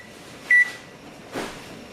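A kitchen timer being set to ten minutes while canning fish gives a single short, clear electronic beep, followed a moment later by a soft brushing noise in an otherwise quiet room.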